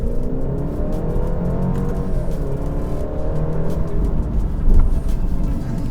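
Alfa Romeo Giulia 2.0T driving on a country road, its turbo four-cylinder engine droning and revving steadily from inside the cabin, with one brief louder surge near the end.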